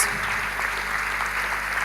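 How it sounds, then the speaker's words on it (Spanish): Steady, dense clapping from a congregation closing a church youth meeting, a continuous wash of applause throughout the brief moment with no voices standing out. "Le damos un fuerte aplauso al Espíritu Santo de Dios"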